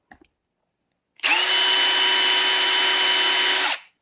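A DeWALT hammer drill is running on its hammer setting. After a couple of faint clicks it spins up sharply into a loud, steady high-pitched whine with a buzzing hammer rattle, holds for about two and a half seconds, then winds down.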